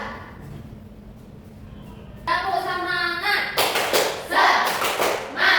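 Children in a second-grade classroom perform the rhythmic "tepuk semangat" clapping chant, led by a pupil. After a quieter stretch, sharp claps and chanting voices rise and come close and loud, in a quick irregular rhythm.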